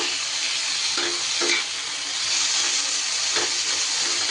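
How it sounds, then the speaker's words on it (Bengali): Potatoes and chopped onion frying in a pan, an even hissing sizzle with a few scraping stir strokes, close and steady. "আলুটাকে আমি ভেজে নিচ্ছি এরই ওপরে দিয়ে দিচ্ছি কুচি করে রাখা পেঁয়াজটা"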